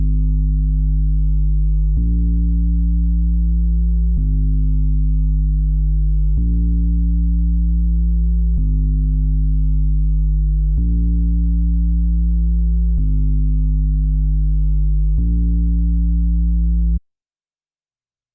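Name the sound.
808 bass sound in FL Studio trap beat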